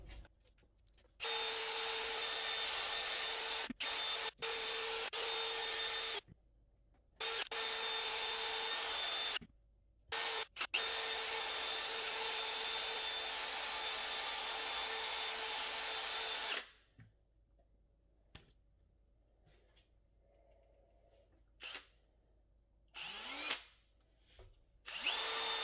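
A drill spins a felt pad with polishing powder across scratched glass, a loud, even high whine in long runs broken by short pauses, then stops and leaves quiet handling noises.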